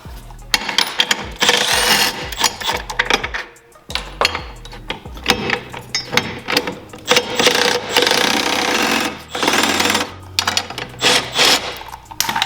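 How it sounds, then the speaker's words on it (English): A 13 mm socket wrench works the bolts holding the venturi on a Sea-Doo jet pump, giving rapid ratcheting clicks in bursts with metallic clinks and brief pauses, close and loud. "you're gonna take a 13 millimeter now, and you're gonna take the 4 bolts that are holding the actual venturi on"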